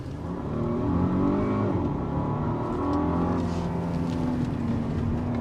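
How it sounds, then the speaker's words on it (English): 2023 VW Atlas Execline R-Line SUV accelerating hard in sport mode on a parking lot handling course, heard from inside as a loud, steady engine drone that rises in pitch with the revs, with no talking. "here's where we do our handling test and go a lot faster than you ever should on a public road"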